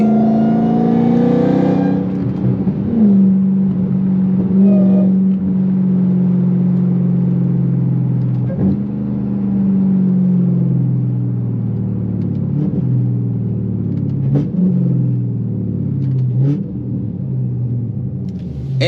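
A Dodge Charger Hellcat with over 800 horsepower cruises on the highway at night. The engine gives a loud, continuous rumble as it rises through gears, with a few short shifts and throttle changes and a deep drone between them.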